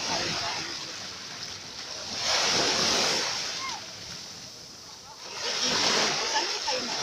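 Sea waves breaking along the shore at Alexandria, Egypt, two broad washes of surf swelling and receding, with people talking faintly underneath.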